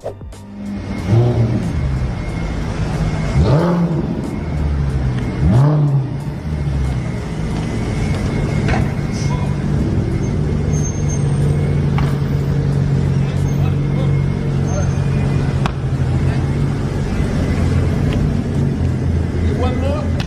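A Lamborghini engine runs steadily and revs up now and then, loud and close, with a voice shouting over it at the start.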